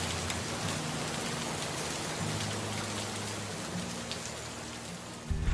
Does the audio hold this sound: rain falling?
yes